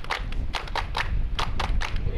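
A handful of distinct hand claps honouring a surgical team at an Angolan hospital, sharp and separate rather than a continuous roar, over a low background rumble.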